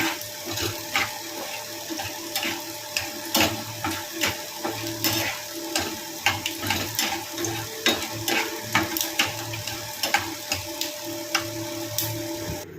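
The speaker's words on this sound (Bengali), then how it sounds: "বাদামটা আগে ভেজে নি" Peanuts frying in a small amount of oil, a continuous crackle punctuated by irregular sharp clicks and spatula knocks against the pan, close and moderately loud with no voices.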